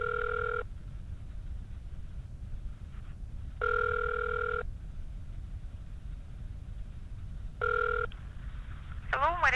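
A telephone line rings while a call to a motel is put through to the operator, three evenly spaced ring bursts over a steady hiss, closing with a brief warbling tone.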